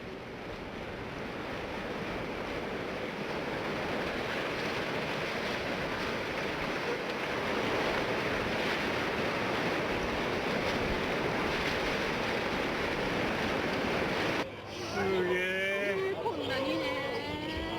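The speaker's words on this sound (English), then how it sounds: "the water has climbed over the port breakwaters and is flowing into the city" Tsunami water pours over the port breakwaters into Kamaishi, Japan, during the 2011 disaster, a loud, continuous rushing roar with wind noise, joined near the end by a calm voice.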